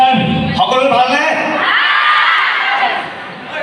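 A student crowd at a college event for an Assamese film cheers and shouts loudly and without a break, with whoops rising over a dense wash of voices.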